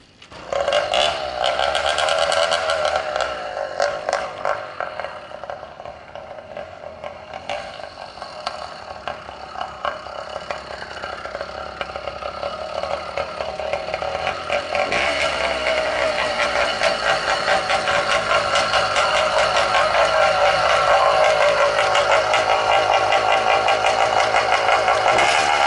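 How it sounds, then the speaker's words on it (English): A motorcycle engine with no muffler runs straight into a fat belly pipe, giving a loud, steady, raspy exhaust roar that holds for the whole stretch with no talking. "it's going to be very loud because there's no muffler on it. It's just straight out the motor into the big fat belly pipe."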